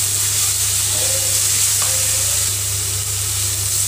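Garlic and chili paste frying with browned onions in oil makes a loud, continuous close sizzle over a low steady hum, with occasional stirring scrapes and no talking.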